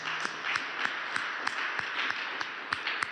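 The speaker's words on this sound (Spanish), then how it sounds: "Un aplauso." Church congregation applause with sharp, rhythmic claps landing in an even beat over a bright, sustained wash of clapping, fairly close and steady throughout.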